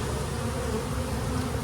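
Honey bees crowding a hive during a nectar flow, a thick, steady buzzing hum up close and unbroken, with nothing else over it.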